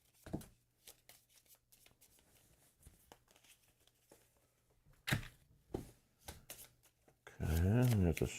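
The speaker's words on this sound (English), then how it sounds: "we place item deck B on the table and shuffle it" Item deck of cards for the Tainted Grail: Kings of Ruin board game being shuffled on a table, soft riffling and card taps in bursts, close and fairly quiet, with a louder rustle near the end.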